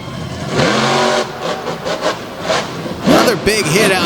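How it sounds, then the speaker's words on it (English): A monster truck revs hard while smoking its tires at an outdoor show, its loud engine roar rising and falling in bursts with an announcer talking over it. "And now smoking the tires."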